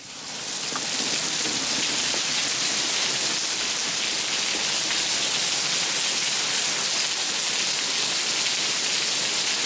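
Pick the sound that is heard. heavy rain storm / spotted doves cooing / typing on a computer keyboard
heavy rain storm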